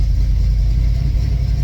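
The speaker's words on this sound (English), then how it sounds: "so like you try to get on the throttle" A carbureted-style engine fitted with FiTech fuel injection revs as the throttle is pressed, a steady loud low rumble throughout with no talk.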